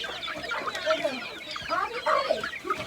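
Farm chickens cluck and murmur close by, with several overlapping calls in an uneven rhythm against a low background of movement.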